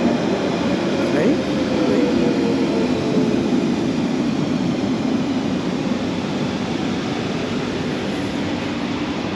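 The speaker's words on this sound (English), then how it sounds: "this is the washing machine noise that they do." A London Underground Central Line train on the Hainault loop at Woodford gives off a steady, loud washing-machine-like churning rumble that runs unbroken throughout, with faint talk in the background.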